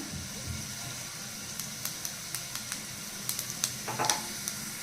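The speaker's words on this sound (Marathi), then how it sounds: "आता आपण यामध्ये जिरे टाकून घेऊया।" Cumin seeds crackle in hot ghee with fried potato pieces for sabudana khichdi, giving a soft steady sizzle punctuated by sharp pops and spits that grow busier toward the end, with no voices.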